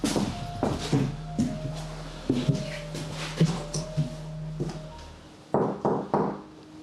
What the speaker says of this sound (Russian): Возле меня кто-то сейчас в дверь стучал.